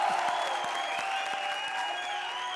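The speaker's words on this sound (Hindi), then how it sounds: "जोरदार तालियां" Applause from a comedy show studio audience, with broad, steady hiss of many hands, mixed with a sustained tonal hum and occasional low thumps, moderately loud throughout.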